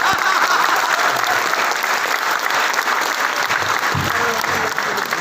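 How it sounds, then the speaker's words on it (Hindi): An audience at a talk breaks into steady, dense applause, loud and close, sustained evenly throughout with a few faint voices underneath. "ताली बजा दीजिए।"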